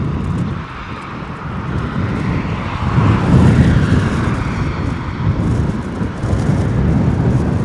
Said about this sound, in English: A380 coming in from Abu Dhabi